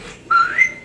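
A person whistles two short, clear rising notes, close and loud, in a comedy sketch on stage.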